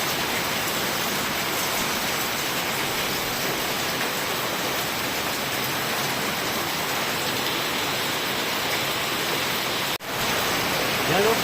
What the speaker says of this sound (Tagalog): lalo pang lumakas ang ulan